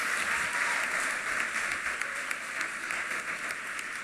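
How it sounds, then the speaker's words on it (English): A graduation audience at SALCC applauds its faculty and staff, with steady, dense clapping from a large crowd filling the hall for the whole moment. "Round of applause for our faculty and staff"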